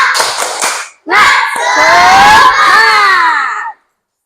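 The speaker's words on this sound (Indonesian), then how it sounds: "Tepuk semangat." Children shout a spirited clap chant (tepuk semangat) in a classroom, a burst of quick claps and calls followed by a loud, sustained group shout that cuts off sharply.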